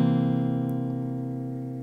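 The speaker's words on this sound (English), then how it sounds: "the dominant seventh chord, that thing that sounds like this" A guitar sustains a dominant seventh chord arpeggio for blues, the strummed notes ringing together and slowly decaying, with no talking.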